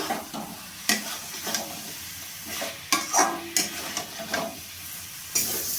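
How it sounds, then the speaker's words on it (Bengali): Jackfruit frying in spice paste and stirred in a pan for a jackfruit and prawn curry, steady soft sizzling broken by repeated scraping stir strokes at close range, with no talk. "এবার এঁচড়টা দিয়ে দেবো। এঁচড়টা দিয়ে আবার ভালোভাবে কষিয়ে নেব।"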